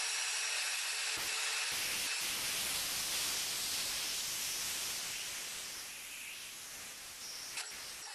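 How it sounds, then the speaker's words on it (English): Close, continuous sanding on a wood carving, a steady broad hiss that runs unbroken for several seconds with a couple of brief pauses near the start, heard alone without speech. "So I want to sand a little more of that off because I want some of that to come off."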